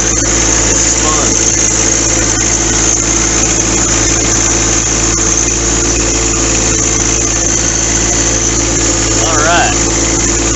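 Steady engine drone from a new John Deere 4x4 tractor, close and continuous with a low vibrating hum, while someone speaks intermittently over the running machine.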